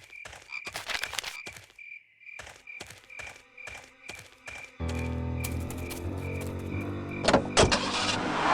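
A car ride in the adventure game Full Throttle Remastered: a few croaking, knocking clicks and a thunk, then a steady, loud engine rumble with road noise that runs to the end.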